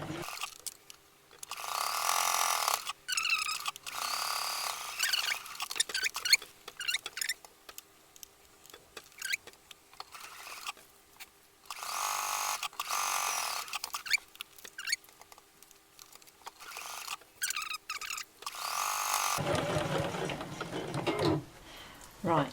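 A sewing machine stitches fabric for a reusable cutlery pouch in short, rapid bursts of mechanical chatter separated by pauses, fairly close and moderately loud, ending with a different, steadier rattle.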